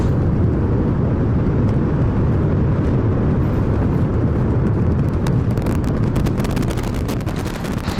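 A SpaceX Starship atop its Super Heavy booster lifts off from Pad 1, a loud, continuous, broadband roar with crackling bursts growing stronger toward the end.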